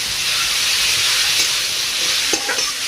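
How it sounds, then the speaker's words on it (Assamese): Cumin and black pepper paste frying in a hot pan, a loud continuous sizzle and hiss with occasional stirring scrapes, close and steady with no talk. "আৰু এইখিনি এতিয়া ভাজি থাকিম।"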